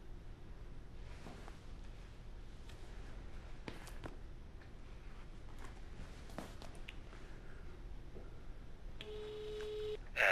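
A telephone ringing tone heard through the line during a phone call, a short repeating electronic burst that stands out over a low hum of room noise, with no talk.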